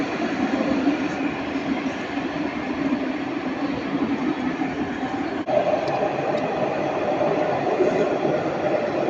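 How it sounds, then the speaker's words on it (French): A tram at the Jean Médecin stop rolls past with a continuous, fairly loud rumble and steady rail noise, broken by one faint click midway. "C'est le dernier tram qu'on filme pour aujourd'hui"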